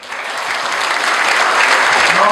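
Loud, steady applause comes from an audience at a Q&A with top earners of AIM Global, with close, dense clapping that builds slightly as it goes.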